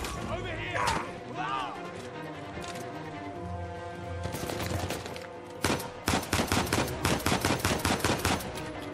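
Gunfire in the video game Uncharted 4 A Thief's End, set in a jungle: scattered shots early, then a dense run of sharp rapid shots in the closing seconds, with someone talking over the quieter stretches and game music underneath.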